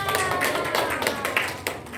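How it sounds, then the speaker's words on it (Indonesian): Students in a classroom clap for three classmates, a light, brief patter of hands at moderate distance, with a voice partly over it. "Tepuk tangan dong."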